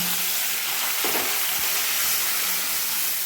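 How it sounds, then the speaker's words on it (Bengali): Beaten sour yogurt being stirred into a hot pan of oil tempered with dried chillies and cumin, a dense steady hiss and sizzle with a couple of soft scraping strokes, near and constant without talk. "টক দইটা দিয়ে কন্টিনিউ নাড়তে হবে, নাহলে দইটা কেটে যাওয়ার সম্ভাবনা থাকে।"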